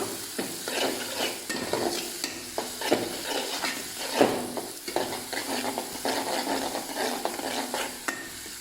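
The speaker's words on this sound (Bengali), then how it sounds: "তেলটা গরম হয়ে গিয়েছে, এখন পেঁয়াজগুলো দিয়ে দিব। ভালো করে লাল লাল করে নিব।" Onions fry in hot oil while being stirred until browned, a crackling sizzle that rises and falls with repeated scraping strokes of a spatula against the pan, close and fairly loud with no voices.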